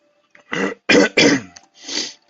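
A person with a failing voice coughs and clears their throat in four harsh, close bursts, each separated by brief silence, with no talking.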